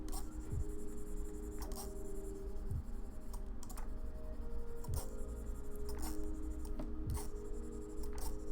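A pen colouring on paper, making steady scratchy strokes in a repeating rhythm, close and continuous with faint background hiss.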